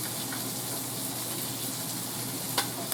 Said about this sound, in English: So I'm just going to add a little water.